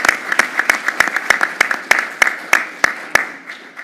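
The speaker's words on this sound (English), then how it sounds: "can we give them another round of applause?" Applause at a university board of regents meeting for award recipients: a small audience claps, individual sharp claps standing out in an irregular rhythm over a steady wash of hand claps, fairly close and moderately loud.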